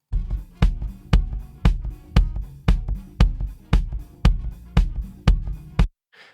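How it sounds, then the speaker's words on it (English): Heard through a 91A microphone mounted inside the drum, a kick in a home-studio room session gives a dozen steady, punchy hits with a sharp attack and a deep body, evenly paced and up close, ending with brief silence. "and then the kick in, which is that 91A."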